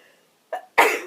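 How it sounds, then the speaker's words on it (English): A single person's sneeze, close and loud: a short inhaling burst followed by a sharp explosive release, heard alone in a quiet room during a casual chat about acrylic sock yarns. "Good sneeze."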